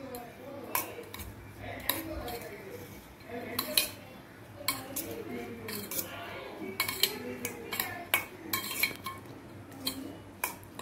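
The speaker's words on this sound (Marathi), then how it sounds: "आणि आता आपण याला मिक्स करून घेऊया." A spoon clinks and scrapes against a bowl while corn chaat with lemon juice is mixed, repeated irregular metallic taps close by, with soft talk underneath.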